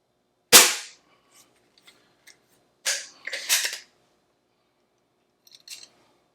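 Umarex Trevox air pistol firing RWS Diabolo wadcutter pellets: one sharp, close pop, then separated clicks and rattling bursts from handling the gun, with quiet gaps between them and no talking.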